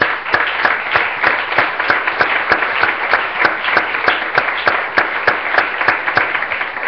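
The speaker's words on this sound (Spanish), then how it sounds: "Démosle un aplauso al Señor, hermano." A church congregation claps in steady unison during a Spanish-language sermon, with sharp evenly spaced claps continuing for several seconds, fairly loud and without talk over them.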